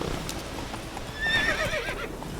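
A horse in The Witcher 3 moves with quick, rhythmic hoof clip-clops, close and moderately loud, and a brief whinny rises near the middle.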